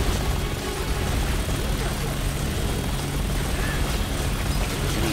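Helicopter gunship in the video game Resident Evil 6, a dense, constant rotor roar and engine rumble with a loud, steady wash of noise throughout, its rocket fire buried in the din rather than standing out.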